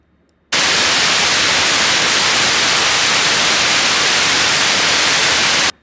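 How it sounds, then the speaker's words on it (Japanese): A steady hiss of broadband noise, a constant wave-like sound, switches on abruptly, holds at constant loudness for several seconds, then cuts off sharply. "こんな感じの一定のノイズのような音です。"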